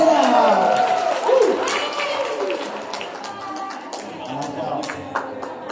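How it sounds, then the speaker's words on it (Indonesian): An audience at a discussion event claps briefly while voices and movement carry through the room, the applause light and mixed with nearby talk. "Tepuk tangan semuanya."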